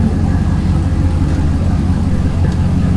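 LS-swapped Datsun 280ZX engine running as the clutch is let out, a loud steady low rumble that continues close by without a clear change.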